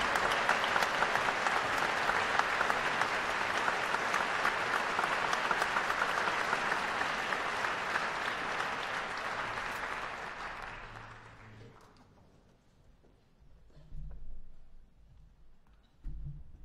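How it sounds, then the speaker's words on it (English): A jazz concert audience at a tribute concert breaks into loud, dense applause that holds steady for about ten seconds, then fades out to near quiet. "give her a warm round of applause as she comes to the stage."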